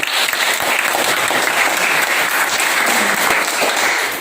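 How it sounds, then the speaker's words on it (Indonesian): A classroom of students bursts into loud, dense applause, a steady wash of many hands clapping close together without pause, with no speech heard over it. "Tepuk tangan dulu untuk kita semua."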